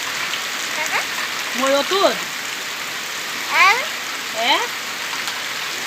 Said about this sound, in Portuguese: Tá gostando da chuva?